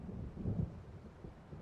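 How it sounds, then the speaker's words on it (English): Low, rolling thunder from an approaching storm in the video game Alan Wake Remastered, a fairly faint continuous rumble that swells briefly near the start, with no speech. "It seems there's a storm coming."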